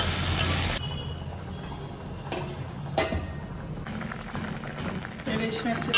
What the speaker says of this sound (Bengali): এবার আলুটা ভেজে নিই